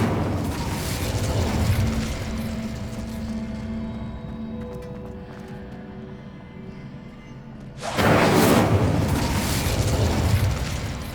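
Fire spell cast in Hogwarts Legacy gameplay, a sustained rumbling, whooshing burst over game ambience, flaring into a loud, broad blast near the end.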